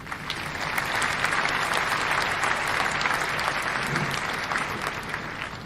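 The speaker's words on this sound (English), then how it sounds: "It's a very civilised clap, that one." Applause for Larry from a modest audience, a steady, even patter of clapping that holds at the same level throughout, close and dense with no voices over it.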